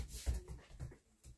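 A puppy whimpers in short, soft whines during a brushing session, a few brief whimpers close by over a quiet indoor background.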